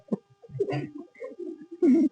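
A pigeon cooing nearby in a few soft, low throaty bursts, mixed with other close sounds and brief voices.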